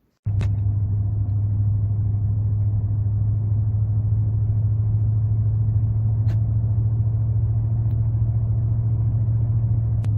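A Chevrolet Silverado truck driving at night, a steady low engine rumble and road drone holding constant from a close interior position, with a couple of faint clicks and no talking.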